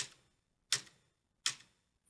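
Computer keyboard arrow keys pressed during Photoshop work, three crisp isolated clicks spaced evenly apart, close and fairly quiet, with no talk.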